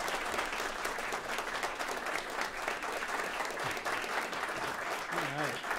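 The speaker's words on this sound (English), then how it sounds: "And then applause for Mike Grunwald and Tamar Haspel of Climavores." A live audience at a New York stage event breaks into dense, sustained applause that holds steady throughout, with faint voices and a brief cheer rising near the end.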